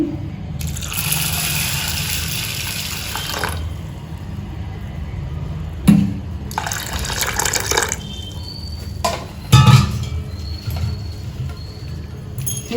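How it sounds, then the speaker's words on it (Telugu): Water runs in bursts and splashes into a container of lentils, with a few knocks and clinks between pours. "ఇందులో వాటర్ పోసుకుందాము"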